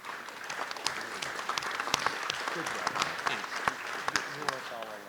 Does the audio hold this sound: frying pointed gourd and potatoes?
no